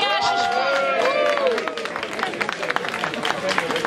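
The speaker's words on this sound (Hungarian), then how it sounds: "Nagy tapsot Johnnak!" Applause breaks out at an outdoor goulash festival, a crowd clapping and cheering in a dense wash of hand claps mixed with voices and a loud carrying call over the top.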